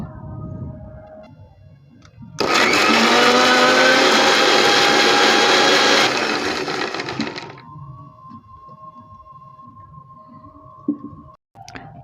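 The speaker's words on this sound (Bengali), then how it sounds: "প্রথমে কমলা লেবুগুলোকে ছুলে মিক্সচারে পেস্ট করে নেব।" A kitchen blender purees peeled oranges for an eggless orange cake, a loud steady whirring roar that cuts in suddenly, runs about four seconds and winds down, followed by a quieter motor hum and a brief clatter.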